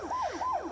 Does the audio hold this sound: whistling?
no